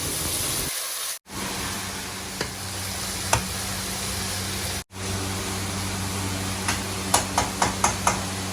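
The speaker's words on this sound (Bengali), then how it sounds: "খুব ভালোভাবে কষিয়ে নিতে হবে মাংসটা।" Chicken sautéing in a pan sizzles loudly and steadily. Two brief dips break the sound, and several quick scraping stir strokes come near the end, with no talking.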